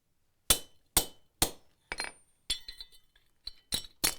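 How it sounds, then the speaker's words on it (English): A hammer strikes a steel punch on wrought iron over a bolster, shearing out a small slug: nine sharp, ringing metallic blows at a steady pace, close and clear, with no voices. "it just shears that slug, that little piece of metal right out"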